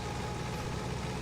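A tractor engine from Farming Simulator 22 runs at a steady, fairly quiet idle, a continuous low droning hum without pauses.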